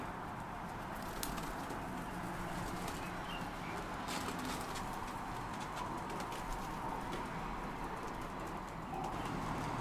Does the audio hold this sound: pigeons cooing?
yes